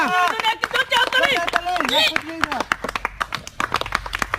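Scattered hand claps sound among lively voices during a playful game of dropping a bouncing ball into glasses on a table. The claps are quick and irregular and come through under almost constant excited chatter.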